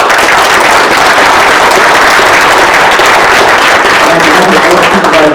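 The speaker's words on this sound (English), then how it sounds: "We give them a round of applause." Loud, sustained applause from an audience at a county government meeting, dense steady clapping filling the room without pause and no voices rising above it.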